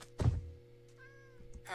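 A Minecraft cat gives a single short, clear meow after a dull thunk, with quiet game sounds around it.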